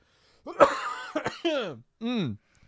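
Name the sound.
cough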